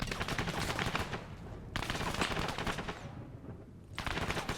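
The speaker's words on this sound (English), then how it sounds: "I got hit pretty good by that MG" Machine gun fire in Arma 3 multiplayer combat in dense fog, loud sustained automatic bursts with brief gaps between them, rapid rounds rattling close by.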